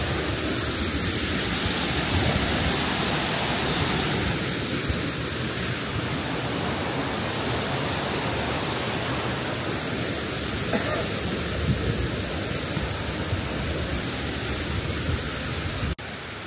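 A waterfall in Bali roars as a steady, dense rush of falling water close by, filling the whole clip with constant broadband noise.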